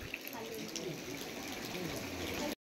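Water flowing out of a hollow along the Amboli Ghat roadside, a steady close rushing gush that runs unbroken for about two and a half seconds before cutting off, with no clear talk over it.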